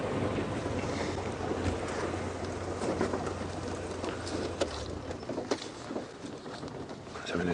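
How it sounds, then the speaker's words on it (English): A safari vehicle's engine hums low and steady on a morning game drive among teak thickets, buffeted by wind noise, then fades out toward the end. "So I'm going to switch off the engine and freewheel."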